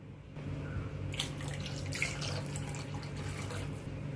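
Water streams from a glass into a pan of spices while bhindi is being cooked, a steady close splashing pour that runs for several seconds without any speech.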